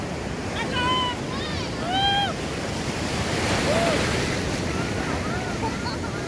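Sea waves surge steadily onto a beach in Goa, a loud, continuous roar of surf that swells and recedes with wind noise, while several people shout and talk over it.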